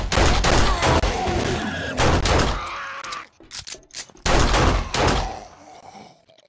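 Gunfire in the video game 7 Days to Die, heard as two loud, dense bursts of rapid shots separated by a short lull with scattered fainter pops, with no voices.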